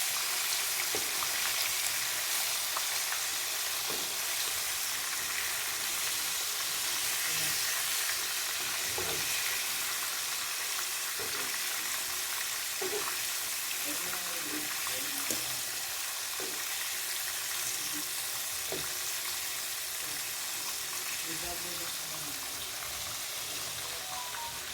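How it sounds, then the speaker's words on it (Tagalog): Chicken liver fries in a pan with a steady, continuous sizzle and occasional soft crackles and pops, heard up close with no talking. "paluto ng ating fried liver"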